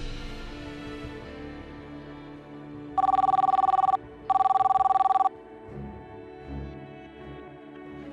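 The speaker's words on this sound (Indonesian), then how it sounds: "Ya udah, coba telepon, coba." Telephone ringback tone on an outgoing call in an Indonesian drama scene: two steady electronic ring bursts of about a second each, clear and fairly loud, with quiet room tone before and after.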